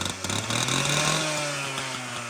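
A small two-stroke engine runs nearby on a steel floor, its buzzing note rising in pitch and then easing off slightly, loud and steady, with no voices.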